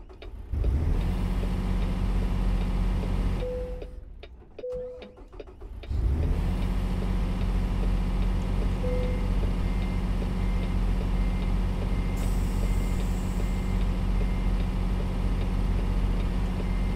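A truck engine on the road drones steadily and loudly, cutting out briefly before roaring back to a sustained, even hum that keeps running to the end.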